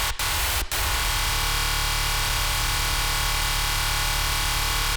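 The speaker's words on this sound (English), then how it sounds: "It adds a little bit of white noise." Steady hiss of white noise layered into a Serum synth preset, constant and loud across the whole stretch after two short dropouts at the start.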